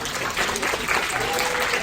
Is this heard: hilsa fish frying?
no